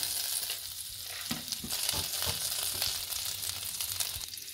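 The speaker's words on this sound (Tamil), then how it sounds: "பட்டர் நல்லா இப்போ உருகிடுச்சு" Butter melting and sizzling in a pan for pav bhaji, a steady close frying hiss with occasional soft stirring scrapes, no talk.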